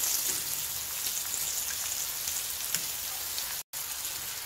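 Egg sticks frying in a pan with a steady, close, even sizzle and spatter throughout, with no talk and one very brief cut near the end.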